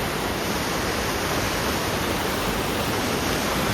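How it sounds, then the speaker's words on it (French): A river waterfall pours in a dense, unbroken roar, loud and close, with no voices over it. "Belle cascade"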